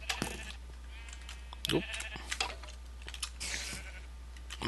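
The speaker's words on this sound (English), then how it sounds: "And he's setting sheep on fire." Sheep bleating in a video game as they are set on fire: several short, fairly close bleats spread across the moment, with a brief voice exclamation in between.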